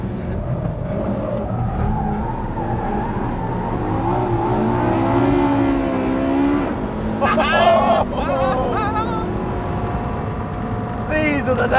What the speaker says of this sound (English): I think Marino wants to get involved in this tire smoking oversteer business.